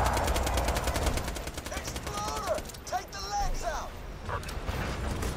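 SMG gunfire in Borderlands 2, heard as a rapid rattling stream of shots running through the clip with mechanical clicks, under a voice talking and game effects.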